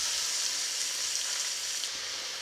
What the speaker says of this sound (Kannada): ಈರುಳ್ಳಿ ಸರಿಯಾಗಿ ಮೆತ್ತಗಾಗಬೇಕು, 4-5 ನಿಮಿಷ ಫ್ರೈ ಮಾಡಬೇಕಾಗ್ತದೆ.